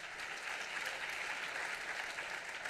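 Audience applause at an awards ceremony honoring green innovation finalists, a faint, dense, even wash of clapping from a distant crowd that holds steady throughout.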